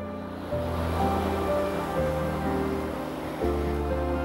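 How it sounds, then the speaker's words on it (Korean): River rapids on the Geumgang in Muju, North Jeolla, rush loudly and steadily, a broad continuous roar of water close by with no voices. "여기 여울이라 물소리가 굉장히 크게 들리죠"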